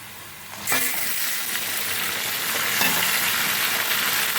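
Marinated chicken hits a pan of golden-brown fried onions for a Bengali chicken khichdi, setting off a loud, steady sizzle of frying that continues throughout, with a few faint clinks of stirring.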